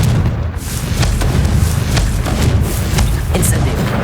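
Confringo blasting spell explosions in the Hogwarts Legacy video game, a dense, loud rumbling boom with repeated thumping bursts layered over heavy low noise.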